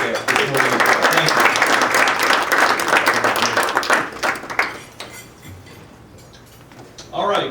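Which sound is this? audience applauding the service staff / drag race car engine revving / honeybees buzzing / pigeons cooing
audience applauding the service staff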